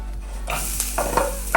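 Onions added to a hot pan with mustard seeds for a beetroot stir-fry, giving a close sizzle and a few quick stirring scrapes in a short burst.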